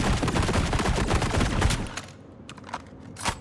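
Star Citizen turrets fire a rapid, loud string of shots for about two seconds, then the barrage drops away to a few scattered, fainter shots over a quieter background.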